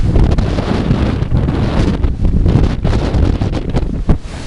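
Strong wind buffets the microphone, a loud continuous rumbling roar with gusty swells, heard outdoors at a furnished house in San Lorenzo Village, Cavite.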